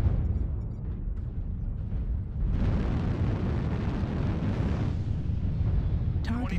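A heavy, rumbling in-game explosion as a target is destroyed, a broad roaring blast that swells at about two and a half seconds over a constant game din, with a short crack at the end.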